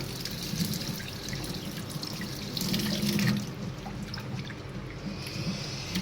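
Water runs from a kitchen tap into a sink as vegetables are rinsed, a close, quiet splashing stream that swells briefly midway, with light clatter and no talk.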